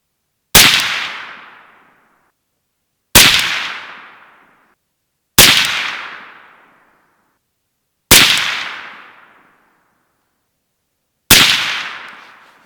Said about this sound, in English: Let's shoot 5 of the V-Maxes and see, or Z-Maxes